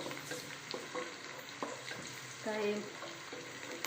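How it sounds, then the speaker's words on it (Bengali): Onions, lentils and meat frying in hot oil for khichuri, a crackling sizzle with scraping stirs and clinks of a spoon against the pot, quiet and close, with a brief word spoken over it. "ডাল দিয়ে মাংস দিয়ে খিচুড়ি রান্না করতেছি"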